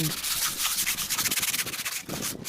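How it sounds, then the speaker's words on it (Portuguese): Wood edges of a kitchen sink cabinet being hand-sanded with 100-grit sandpaper, rapid rhythmic scratchy rubbing strokes repeated close up, pausing briefly near the end. "Então, em todas as pontas, eu passei essa lixa de número 100."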